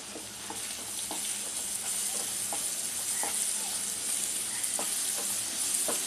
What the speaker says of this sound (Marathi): आलं लसूण पेस्ट टाकून घेऊया।